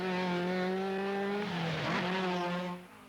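Opel Ascona 400 rally car racing past, a loud, close engine note holding steady then swelling with a pitch sweep as it passes, before dropping away sharply near the end.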